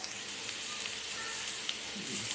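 Garlic paste sizzling with onion in a pan, a steady close frying hiss with faint crackles, briefly louder at the end, no talk.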